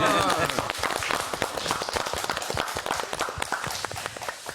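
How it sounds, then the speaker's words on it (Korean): A studio audience at a Korean farming-themed TV program claps in a dense, steady burst lasting several seconds, loud and close, with a brief voice at the start. "박수 좀 쳐드리죠."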